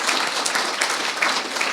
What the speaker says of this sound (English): so we'll clap for him